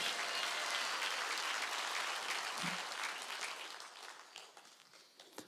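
A church congregation at a Sunday worship service bursts into applause, loud dense clapping at first that gradually thins and fades toward the end, with a brief low thump midway.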